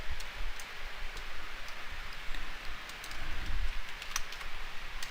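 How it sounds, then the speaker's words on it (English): Faint, quick typing on a computer keyboard while entering code, a soft irregular patter of key taps with no talking. "if I type imports and then I start typing the MySQL in there"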